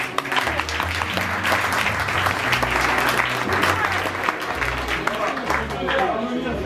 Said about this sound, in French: Donc vous pouvez l'applaudir.